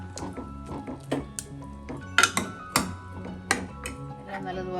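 Cooked pumpkin for a Kerala-style pachadi is mashed in a pot with the flame off, a series of uneven knocks and clinks of the utensil against the pot, moderately close, over a low steady background.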